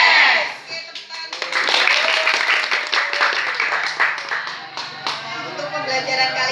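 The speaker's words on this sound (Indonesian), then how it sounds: "tepuk tangan" Students in an Indonesian vocational high school classroom clap their hands together after a class chant, a dense burst of many close claps that carries on steadily with scattered voices mixed in.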